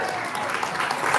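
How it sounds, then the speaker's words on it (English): An audience at a county fair magic show claps in steady, dense applause that holds level for about a second. "Let's give a big round of applause over here."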